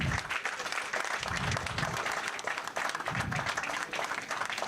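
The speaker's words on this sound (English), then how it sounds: "Big round of applause, please." Members at an annual general body meeting applaud together, a moderate steady clatter of many hands with low thumps and some crowd murmur underneath.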